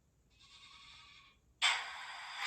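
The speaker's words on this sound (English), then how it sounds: "Yep, I hear sheep." Sheep bleating from the sound decoder of an HO scale model train cattle car, a brief thin bleat followed by a louder, sustained bleat, heard alone without talk.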